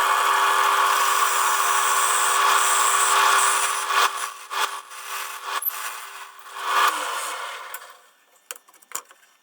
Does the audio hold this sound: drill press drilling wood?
yes